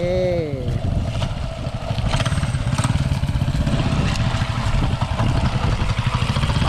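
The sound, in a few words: motorcycle ridden gently up a slope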